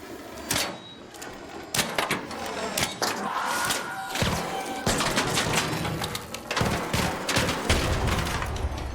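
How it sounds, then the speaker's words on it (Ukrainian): Rapid bursts of gunfire in the video game Arc Raiders crackle through the whole stretch, dense volleys with brief gaps, loud and close over a busy background. "люди щось стріляють, обережно"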